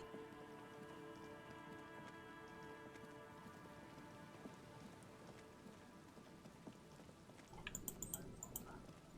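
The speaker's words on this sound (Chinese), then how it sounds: "哦，还下雨了，我的天哪！" Steady rain falling in the video game Disco Elysium, a continuous soft patter over a bed of game music and ambience, with a brief burst of denser drops near the end.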